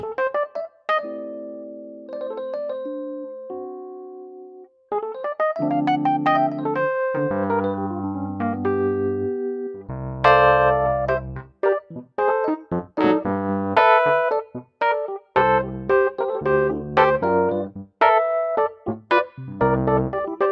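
Electric piano chords and melodic notes play on their own, bright and bell-like, with rhythmic stabs that grow busier and louder partway through.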